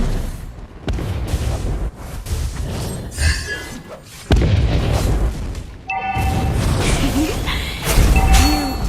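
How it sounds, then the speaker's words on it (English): Booming explosions and crashing blasts from the mobile game Bang Bang as a turret is destroyed, repeated heavy bursts over busy game effects, with a voice line heard in places. "Our turret has been destroyed."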